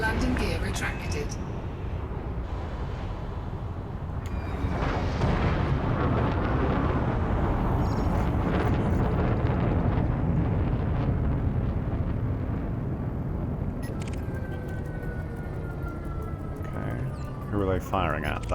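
Spaceships trade weapons fire in Elite Dangerous near a starport, a rumbling, booming wash of blasts and engine roar with sharp bursts, heard under a steady voice talking.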